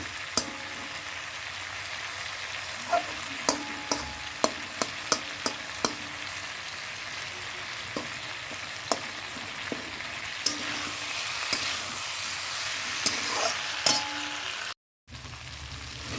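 Cauliflower curry with dried red chillies sautés in a pan under a steady, quiet sizzle, while a spatula clicks and scrapes against the pan in irregular bursts and the frying briefly cuts out near the end.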